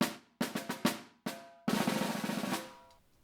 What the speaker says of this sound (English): here's the sound of the snare drum dry again